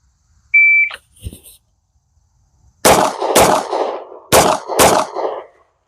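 A shot timer gives a short electronic beep, followed a couple of seconds later by four loud, sharp 9mm pistol shots from an FN Reflex, fired in two quick pairs at close range outdoors. Each report is sharp and has a brief echoing tail.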